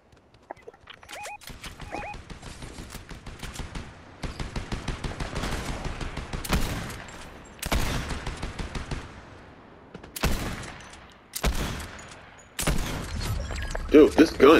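Rapid bursts of video game gunfire, loud dense volleys of automatic shots broken by brief pauses, close and repeated, with people talking in between.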